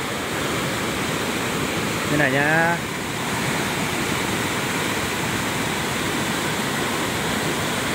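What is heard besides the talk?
large mountain stream rushing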